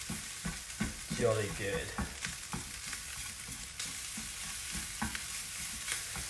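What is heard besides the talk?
black pudding and onions frying and being stirred in a pan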